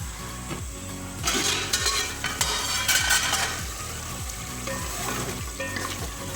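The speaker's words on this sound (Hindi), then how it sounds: "अभी हम इसको 5 से 10 मिनट तक मज़ीद भूनेंगे, इसको भुनाई करेंगे इसकी।" Shaljam gosht masala fries and sizzles steadily in oil while a spoon scrapes and stirs it in a rhythmic series of strokes, close and fairly loud with no talking.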